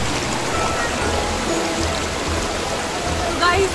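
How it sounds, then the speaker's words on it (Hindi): Monsoon waterfall at Tahmini Ghat in Mulshi, a steady broadband rush of falling water that fills the scene continuously from start to finish, with faint background voices under it. "गाइस ये है वो झरना"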